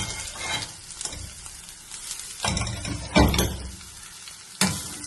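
Green gram for cherupayar upperi sizzles in a hot pan with chili flakes while a spatula stirs and scrapes it. The scrapes come in close, uneven bursts over the frying hiss.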